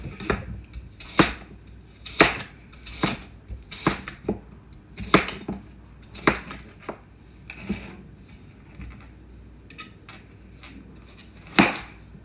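A knife chops through snapper fish on a board, about a dozen crisp separate strikes at an uneven pace, close and fairly loud, with quiet gaps between them.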